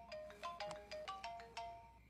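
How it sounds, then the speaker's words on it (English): A mobile phone ringtone in a movie, Scream 4 (2011): a quick, bright electronic melody of about seven short rising and falling notes, fairly faint, with no voices. "Back when people still had, you know, ringtones."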